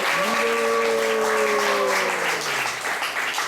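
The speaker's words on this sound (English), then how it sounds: "Let's give a round of applause for Chitra Prabhu" Steady, dense applause from a temple audience at an ISKCON Snan Yatra gathering in Atlanta, with a sustained, slowly falling voice-like tone over the clapping.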